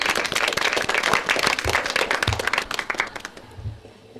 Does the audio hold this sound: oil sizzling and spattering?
no